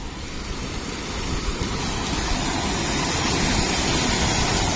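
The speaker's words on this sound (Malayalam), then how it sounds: "ഇതാണ് അരുവി. ഇതാണ് അരുവിക്കുഴി. കുഴിയിൽ കൂടെ ഒഴുകുന്ന അരുവി." A small stream flows through a rocky hollow near a tea plantation in Karnataka, making a steady, close, broadband rush of water that builds slightly and holds constant, with no voices.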